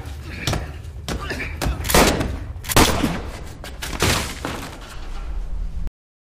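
Gunfire in a film: a rapid string of loud, sharp shots and thuds up close, several bursts over a few seconds before cutting to silence.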